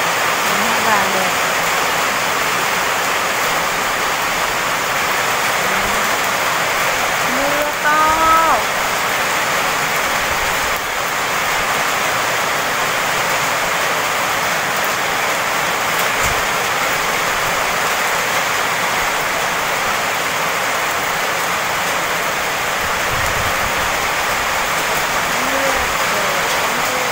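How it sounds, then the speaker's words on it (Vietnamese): Heavy rain pours steadily on a farm, a dense unbroken hiss that lasts throughout, with a few faint voices murmuring beneath it. "Trời đã mưa to rồi"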